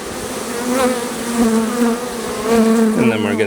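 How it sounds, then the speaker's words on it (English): Honeybees hum steadily around an opened hive during an inspection as frames are set aside and shaken, a dense close buzz that runs throughout, with a brief voice rising near the end. "Just shake off as much of the bees as we can."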